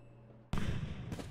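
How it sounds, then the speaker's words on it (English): Fireworks going off in Super Mario Odyssey after a robot battle in Bowser's Kingdom: after a quiet moment, a sudden loud crackling burst sustains, then a second pop arrives about half a second later. "Puts on a little firework show for us."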